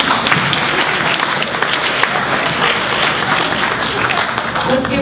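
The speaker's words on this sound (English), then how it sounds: "Give her a round of applause." Audience at a high school poetry recitation competition applauds the evening's poetry prompter, a loud, dense, steady round of clapping held throughout with some crowd voices mixed in.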